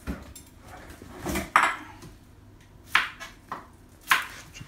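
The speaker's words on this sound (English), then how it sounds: "Chop the first piece of that cucumber away," A knife chops fresh cucumber into small pieces for a pet monkey's food, giving a few separate sharp cuts on a board at an uneven pace, close by, with no speech.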